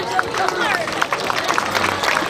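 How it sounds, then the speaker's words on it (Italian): Audience at a Miss Italia regional beauty pageant in Veneto breaks into applause, a steady patter of clapping mixed with crowd murmur, heard up close and lasting throughout. "facciamo un applauso ai nostri partner"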